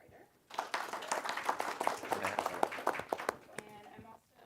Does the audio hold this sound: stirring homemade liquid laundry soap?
no